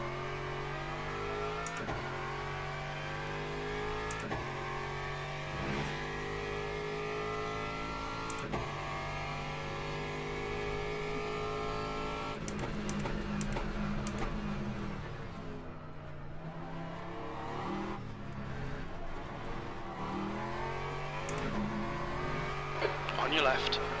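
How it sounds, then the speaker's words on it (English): A race car engine in the racing video game LMU drones steadily, its pitch stepping up and down through gear changes as a faster car closes in and passes, with a voice talking intermittently over it. "There's a faster car approaching."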